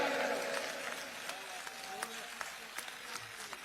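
A standing crowd at a large political rally claps, loud at first and then easing into scattered claps, while a voice talks over it.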